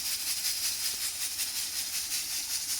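Dal with bottle gourd, chana dal and tomato boiling in a pot after ginger-garlic paste and chillies, giving a steady, close hiss of steam and bubbling with no talk.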